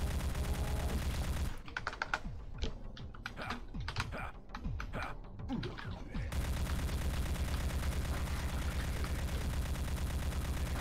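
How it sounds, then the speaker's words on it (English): Bursts of rapid video game gunfire crackle in a cluster for about five seconds, framed by a loud steady background hum that drops away while the shots ring out, with brief talk. "Wait, I'm trying to shoot the other one."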